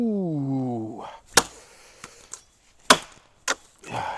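A cheap machete chops into a green tree trunk about 4 inches thick, several sharp woody thwacks spaced apart, close and fairly loud after a brief sliding tone at the start.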